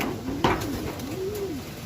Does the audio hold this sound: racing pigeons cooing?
yes